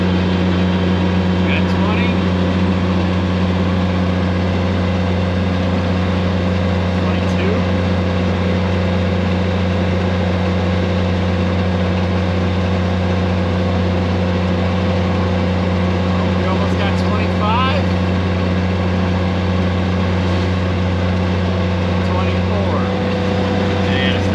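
Boat engine running at full throttle, a loud, steady droning hum with strong low tones that holds constant throughout, with someone talking over it.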